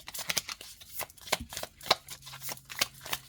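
Oracle cards are shuffled in quick, crisp bursts of riffling and tapping, a soft papery rhythm close by, with no talking.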